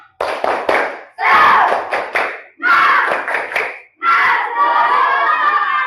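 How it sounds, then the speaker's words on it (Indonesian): A class of schoolchildren performs a tepuk semangat clapping chant in loud rhythmic bursts of clapping and unison shouted chanting. Four distinct phrases are separated by short pauses, and the last ends in a long sustained group shout. "ayo coba tepuk semangat dulu"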